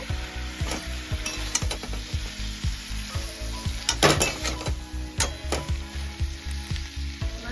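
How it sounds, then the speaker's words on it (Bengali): Silver carp fish curry with tomato and chili sizzles in a pan while a utensil stirs it, scraping and clinking against the metal in a quick repeating rhythm, close and fairly loud, with no talking. "ভালো করে নাড়াচাড়া করে নেব"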